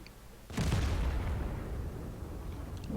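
A single heavy tank cannon shot from World of Tanks booms out loud and close, then its rumbling tail fades slowly over a couple of seconds.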